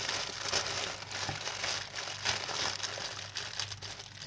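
Scissors cutting through a crinkly plastic bag while a homemade squishy is being made, a close, continuous rustle and crinkle with small repeated snips and no talking.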